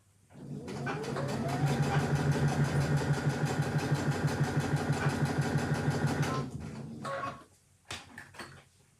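A sewing machine stitches a quilt block in a steady, fast mechanical chatter that runs continuously for about six seconds and then stops, followed by a few faint handling noises.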